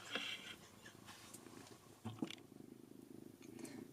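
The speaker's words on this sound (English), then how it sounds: "so if you hear purring, then that's what it is." A cat purring close by, held off to one side, a soft continuous rumble with some brief rustling around it and no talk.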